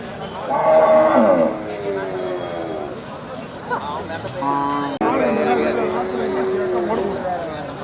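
Cattle moo at a busy village cattle market, several loud, drawn-out lowing calls from nearby animals over a steady babble of people talking.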